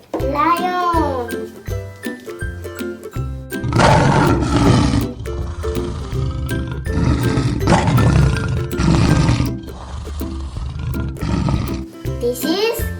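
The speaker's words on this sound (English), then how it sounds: "This is lion." A toy lion gives a loud electronic roar in several bursts, with a voice and tinkling toy sounds around it.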